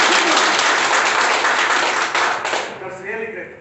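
A big round of applause from an audience at a water purifier demonstration, dense and loud at first, then fading as the clapping tapers off.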